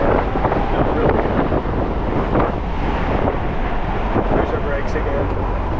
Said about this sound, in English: It's kind of a windy day